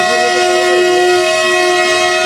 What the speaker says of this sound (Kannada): ಇಲ್ಲಿ ನೋಡಿದ್ರ ಉಲ್ಟ ಹೊಂಟದ ಟ್ರೈನ್ ನೋಡ್ರಿ